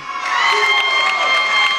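Wrestling arena crowd at a Championship Wrestling TV broadcast, cheering steadily with high shouts and whoops, fairly loud and continuous through the short stretch.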